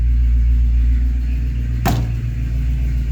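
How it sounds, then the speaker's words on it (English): A 1985 K20 truck engine idles slightly high, a loud steady low rumble up close with one brief sharp clack partway through and no voices. "I'm just going to try to idle it. The idle's just a touch high."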